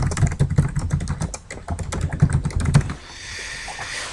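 Rapid, close keystrokes clatter irregularly on a computer keyboard, then stop abruptly, leaving a quiet hiss behind.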